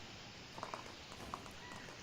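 Light hooves of a horse in the video game Animallica, a few soft, evenly spaced clops over a quiet steady background, faint and fairly close.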